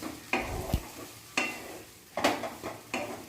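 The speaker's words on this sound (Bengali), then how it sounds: "এবার মশলার সাথে ঢ্যাঁড়সগুলোকে খুব ভালো করে মিক্স করে নিচ্ছি" Fried okra being stirred into a spice paste in a pan, with a few separate bursts of scraping and sizzling, one sharp clink of the utensil against the pan, and short quiet gaps between strokes.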